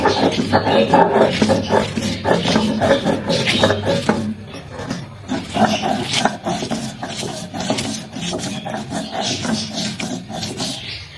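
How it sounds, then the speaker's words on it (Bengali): Fish scraps are ground by hand on a shil-pata grinding stone, giving repeated rough rasping strokes in an uneven rhythm, loud and close, with a brief pause midway before the scraping resumes. "এটার সাথে এটাকে এখন আমি শিলপাঠায় ভালো করে ফুটে নিব"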